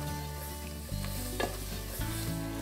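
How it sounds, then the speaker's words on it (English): Leeks cook in a butter and flour roux for a fish pie sauce, giving a soft, steady sizzle with a few scraping strokes as they are stirred. "So in fact, I'm making a roux with leeks in."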